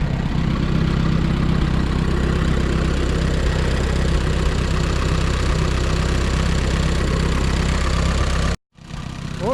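An M602 tractor engine idles steadily and loudly up close, a continuous low rumble with a faint knocking pulse that cuts out abruptly near the end before resuming.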